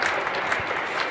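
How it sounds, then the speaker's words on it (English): Brief applause from a conference audience in a hall, a dense, even patter of clapping heard at a moderate distance for about a second. "Now this is an applause moment."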